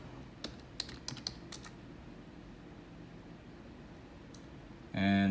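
Typing on a computer keyboard at a Windows PowerShell prompt: a few sparse, quiet key clicks over a steady background hum, ending in a louder burst near the close.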